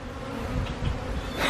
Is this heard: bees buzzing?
yes